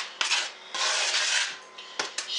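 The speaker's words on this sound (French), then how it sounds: "il ne reste plus qu'à mélanger nos ingrédients secs. Je fais ça avec une cuillère" A spoon scrapes and clinks around a bowl, stirring flour, salt and other dry cookie ingredients in bursts of gritty rubbing, close and clear with no talking.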